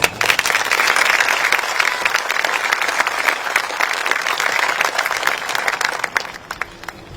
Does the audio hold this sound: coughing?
no